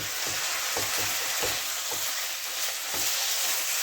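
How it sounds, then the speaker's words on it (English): Rabbit pieces browning in a hot pan, a steady close sizzle broken by irregular soft scrapes and knocks as they are stirred around, with no voices. "Just give these a stir around. Get them all browned off."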